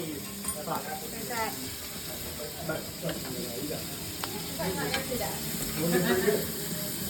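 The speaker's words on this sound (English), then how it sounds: "Who's the first chef to get the pork chop on heat" A pork chop sizzles over heat at a busy birthday cooking competition, with a steady frying hiss running throughout and people talking over it.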